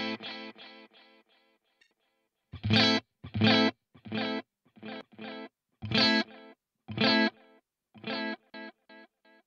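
An electric guitar plays through a BOSS 500 series pedal in its Echo Rec delay mode, with plucked chords and notes followed by clear repeating echoes that trail off between phrases.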